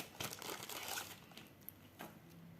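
Soft plastic packaging bag of a diamond painting kit crinkling and rustling as it is handled and opened, quiet and close, with a few brief crackles that fade out near the end.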